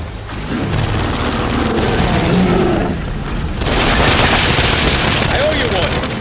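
Sustained gunfire in the Gears of War 5 video game, dense rapid bursts and booming impacts forming a loud, continuous barrage of battle noise.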